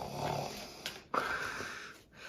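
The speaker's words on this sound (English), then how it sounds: "She was snoring up a storm." Quiet, rasping snores from a sleeping dog, a couple of wheezy breaths with a short snort between them.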